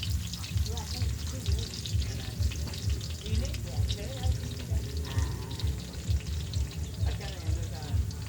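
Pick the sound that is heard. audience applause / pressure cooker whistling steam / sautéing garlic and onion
sautéing garlic and onion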